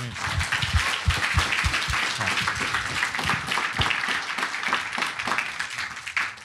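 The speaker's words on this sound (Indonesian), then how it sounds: "Ya, tepuk tangan." An audience applauds an Indonesian education minister, a steady crowd clapping with scattered, distinct hand claps that carries on throughout.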